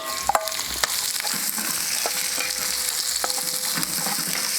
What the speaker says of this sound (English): And in with our onion and carrots.